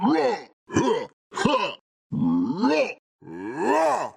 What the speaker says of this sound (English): throwing in all the different grunts and cut them up, and I manipulated the pitch a bit